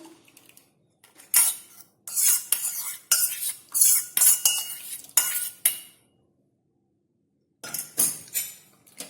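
Metal utensil scrapes and clinks against a hot kadai as a milk mixture of cream and milk powder is added and stirred on a gas flame, in bursts of sharp, bright stirring separated by a few seconds of silence.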